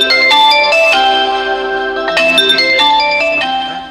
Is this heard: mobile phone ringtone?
yes